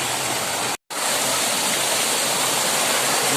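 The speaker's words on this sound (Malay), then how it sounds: "Di sini ada air terjun kecil, rendah." Small, low waterfall in a forest giving a steady, dense rush of falling water, close and loud, with one brief cut in the sound near the start.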